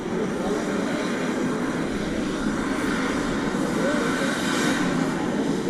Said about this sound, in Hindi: और अब आप देख रहे हैं हेलीकॉप्टर यहाँ से उड़ान भरने वाला है।